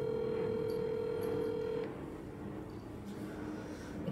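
A telephone dialing a call, with a steady tone for about two seconds that then drops away to a faint line hiss.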